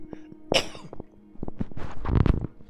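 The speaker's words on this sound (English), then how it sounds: "I'm going to have to clear my throat." A man clears his throat with a couple of rough, harsh bursts, near and fairly loud, ahead of a flight over Beale Air Force Base.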